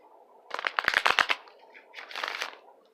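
Tarot cards are shuffled close up in quick riffling bursts, one rapid flurry of flicks followed by a softer second shuffle, with no talking.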